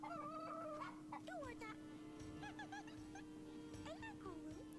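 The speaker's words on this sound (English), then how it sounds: "A rooster!" Rooster crowing in the video game Yes, Your Grace, several bright rising-and-falling calls over a steady low hum and background ambience, with a voice speaking nearby.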